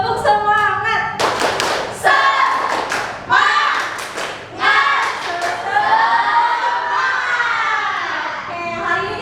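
A school class performs the 'tepuk semangat' rhythmic clap, sharp patterned bursts of many hands in quick sequence, mixed with children's chanting voices, loud and close in a classroom.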